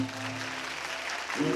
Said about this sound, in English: Clap your hands, miss.